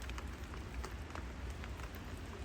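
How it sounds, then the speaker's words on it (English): Steady rain falls outside, a soft continuous patter with scattered brief drips and taps, fairly quiet and even throughout. "Like, we actually have nice weather, but it's raining."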